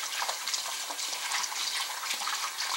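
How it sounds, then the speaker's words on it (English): Water runs steadily from a tap over pieces of cut pork being rinsed, a continuous splashing hiss with no voices over it. "I'll wash this meat up that's already cut up here. Put some water,"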